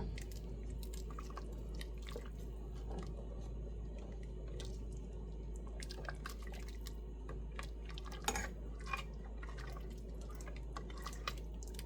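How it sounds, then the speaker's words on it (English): A spoon stirs hamburger soup in a cooking pot, giving quiet wet squishes, drips and soft clinks scattered irregularly over a low steady hum, with one sharper knock near the end. "Stir that up."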